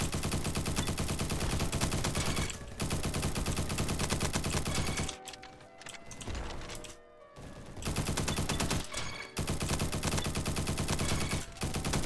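A G36C rifle fires in long, rapid automatic strings during a multiplayer video game match, loud and dense, broken by short pauses and a quieter stretch in the middle.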